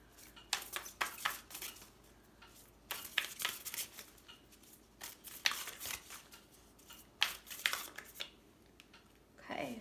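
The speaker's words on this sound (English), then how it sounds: "I'm going to pull a couple love cards for you guys." Tarot love cards being shuffled and pulled close by, with soft rapid riffles and flicks of card stock in irregular bursts, under quiet talk.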